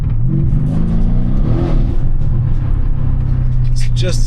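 A Brabus E63S AMG accelerates hard with its rear wheels spinning. Its engine roars and revs up close, with rising and falling pitch over a constant heavy rumble.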